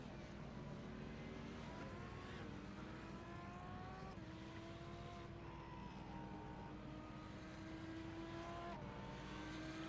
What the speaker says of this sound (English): So the other two cars that are yet to take the flag, Robert Chrisdale